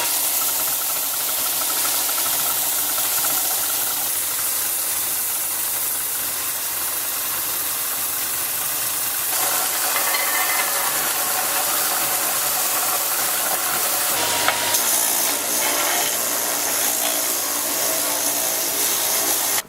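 A WEN 4x36 benchtop belt sander fitted with an 80 grit belt grinds a piece of curly maple, giving a steady, loud motor whine and broadband abrasive hiss that roughens and swells slightly as the wood presses against the belt, with no talking.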